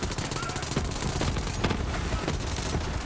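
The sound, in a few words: Kaoson SMG gunfire in video game Borderlands 3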